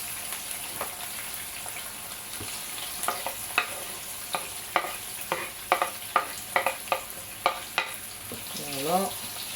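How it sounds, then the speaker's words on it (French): Onion and courgette fry in oil in a pan, a low steady sizzle punctuated by a rhythmic series of sharp scraping stirs, ending with a short squeaky sound. "on commence par l'oignon et le courgette"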